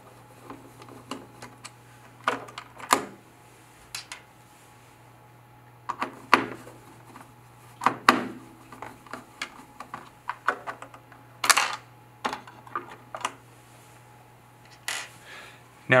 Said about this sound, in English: Now I'll remove the screws that attach the antenna to the case.